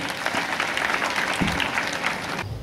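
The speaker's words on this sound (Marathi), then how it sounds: "जोरदार टाळ्या वाजवूयात आपण" Loud, steady applause from an audience at a Marathi lecture-series event in Urulikanchan, dense clapping sustained for over two seconds before cutting off abruptly.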